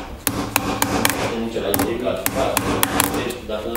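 A hammer strikes the metal clamps of a Dacia Logan's cabin heater radiator, giving sharp metallic taps in an uneven series of about a dozen close, loud blows.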